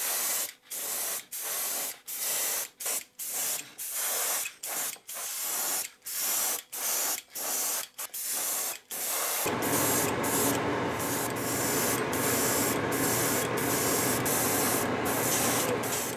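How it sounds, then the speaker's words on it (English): Spray paint in ghost brown is applied to a swimbait eel lure, first in a rapid series of short, close hissing bursts and then as one long continuous spray that runs to the end. "now I'm gonna go ahead and paint it completely with this ghost brown"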